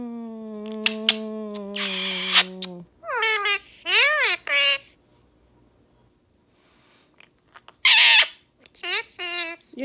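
A pet bird chatters and warbles in bursts of rising and falling whistles, squawks and mimicked babble, with a person's voice speaking in the opening seconds and short gaps of near silence between the louder calls.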